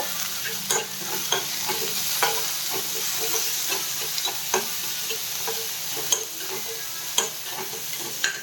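Onion and curry leaves fry in oil with a continuous close sizzle while a spoon scrapes and taps the pan in an uneven rhythm of stirring strokes.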